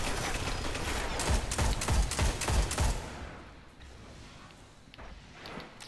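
Shotgun blasts ring out in a Destiny Crucible skirmish, a quick cluster of four or five loud booming shots about half a second apart, followed by quieter game ambience and a few faint clicks.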